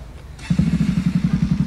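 A motorcycle engine starts and settles into a loud, close idle with a rapid, even chugging pulse, with no voices over it.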